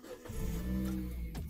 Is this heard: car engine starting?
yes